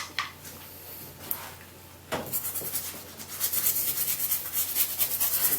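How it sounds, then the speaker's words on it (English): A toothbrush scrubs Olympic rings puzzle pieces in hot soapy water, giving soft wet rubbing strokes that build from sparse scrapes into steady, louder brushing close by. "I've got some hot water, hot soapy water, and I'm going to use a toothbrush to clean them"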